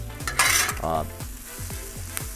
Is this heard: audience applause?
no